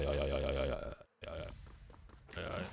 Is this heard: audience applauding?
no